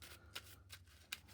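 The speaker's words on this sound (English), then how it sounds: "I'll give my hero cards a quick shuffle." Hero cards from a Marvel Champions deck riffled in a quick shuffle, with a few soft bursts and two sharper card riffs close by against a quiet room hum.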